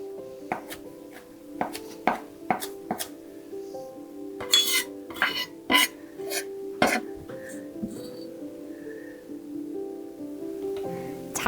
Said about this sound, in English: Let's give it a good chop.